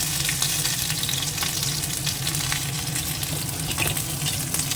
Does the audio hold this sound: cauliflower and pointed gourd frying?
yes